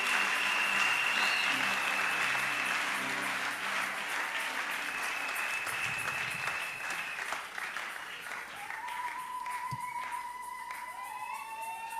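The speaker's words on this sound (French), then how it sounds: "Tu peux acclamer fortement" A church congregation at a Friday charismatic worship service claps loudly and steadily, the sustained applause slowly thinning out while a few cheers and shouts rise over it.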